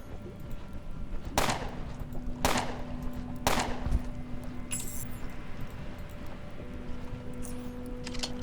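Three sharp gunshots from the video game Underrail ring out about a second apart, loud and close, over a steady hum of game ambience and background tones.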